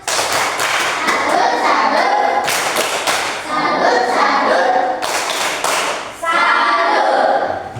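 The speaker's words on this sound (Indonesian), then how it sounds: "Ya, kita beri tepuk salut." A classroom of children performs a rhythmic patterned clapping cheer, loud bursts of hand claps and thumps in repeated sections separated by brief pauses.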